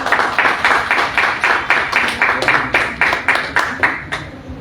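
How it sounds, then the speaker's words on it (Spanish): Rhythmic, fairly loud clapping from an audience at a book presentation at the Ricardo Palma book fair, a run of evenly spaced claps that stays near and steady before thinning out at the end. "Por favor, un fuerte aplauso."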